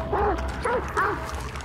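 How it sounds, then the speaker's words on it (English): Hellhound dog from the game Hunt: Showdown letting out three short whining yelps in a row, each with a rising and falling pitch, heard over a steady low rumble of game ambience. "Okay, the dog is annoying."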